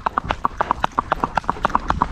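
Hooves of a young filly stepping backward during a training session, a steady run of crisp clip-clop beats, close and evenly paced, with no talk over them.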